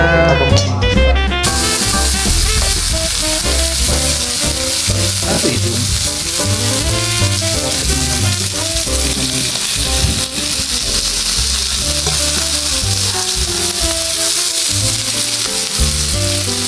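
Carbonara cooks in a pan with loud, steady sizzling and frying throughout, broken by occasional stirring and clatter of utensils, close and busy with no talking.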